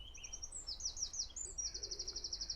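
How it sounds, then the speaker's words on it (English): Faint outdoor bird song from a mix of blackcaps, sedge warblers, thrush and a distant cuckoo, with quick high chirps and rapid trills rising and falling over a quiet background. "I'm surrounded by bird song. Blackcaps, sedge warblers, sounded like some thrush, maybe a cuckoo far away behind me."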